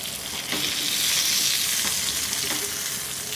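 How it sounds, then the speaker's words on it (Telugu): Small fish fry in hot oil in a pan, giving a loud, continuous crackling sizzle with a few faint scrapes as the pieces are turned. "ఇలా రెండో పక్కకు కూడా టర్న్ చేసుకొని రెండో పక్క కూడా బాగా ఫ్రై చేసుకోవాలండి"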